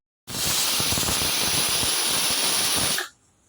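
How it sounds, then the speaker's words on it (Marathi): A pressure cooker cooking lentils lets out one loud, steady hissing whistle of steam for about three seconds, then cuts off sharply, with nobody speaking. "कुकरची शिट्टी पण झाली म्हणजे डाळ शिजून घेतली"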